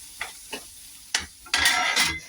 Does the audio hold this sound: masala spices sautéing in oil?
yes